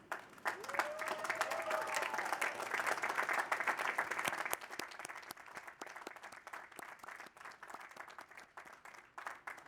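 Graduates at a university architecture commencement stand and applaud their families and supporters; sustained, dense clapping from a large crowd fills the space for nearly ten seconds, fading slightly toward the end.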